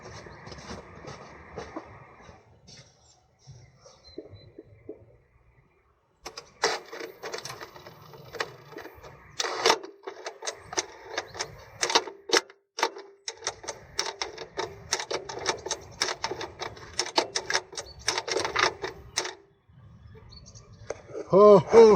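A Toyota MMT semi-automatic gearbox actuator runs after the ignition is switched on, giving rapid bursts of mechanical clicking and whirring in repeated pulses after a quiet start, with a person speaking at times.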